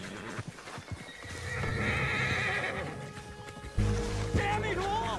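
A horse in the Red Dead Redemption 2 game, near Van Horn, neighs and whinnies loudly with clip-clop hooves, a rising shrill whinny near the end over a busy game soundscape.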